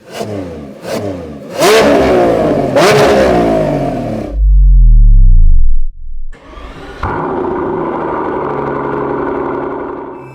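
A powerful 2025 Lamborghini Revuelto V12 engine revs sharply several times, drops into a deep rumble, then settles into a loud, steady high-pitched drone.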